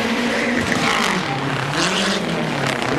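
A Lancia Delta rally car, driven by Kankkunen at the 1988 Race of Champions, roars along at speed with a steady, loud, close engine drone that holds throughout without a break.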